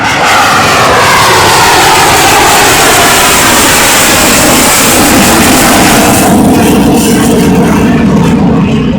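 An F-16 fighter jet roars past in a flyover at an airshow, its engine noise loud and continuous throughout, a broad rushing blast that shifts in tone as it passes.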